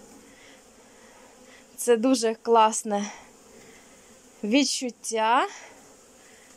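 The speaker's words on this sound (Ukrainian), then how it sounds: "жужжання. Воно заспокоює та настраює на гарний лад." Honeybees buzzing at an apiary, a soft steady hum running throughout beneath a person talking in two bursts.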